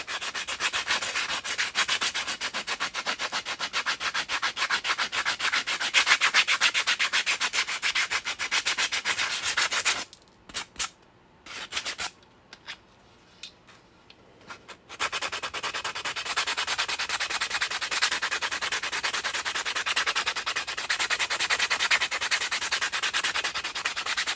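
Fine-grit sanding sponge rubbed steadily over a PLA 3D print, a close, continuous dry scratchy rasping that stops briefly midway with a few scuffs, then resumes just as steadily.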